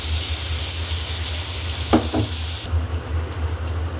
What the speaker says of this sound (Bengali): এখানে আমি এখন আলুগুলো ঢেলে দেব।